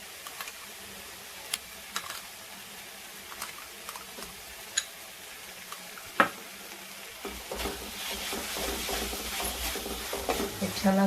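Masala pasta with red chili sauce being stirred in a pan: scattered light ticks and scrapes of a spoon come first, then a louder, continuous sizzling and mixing sound builds close by.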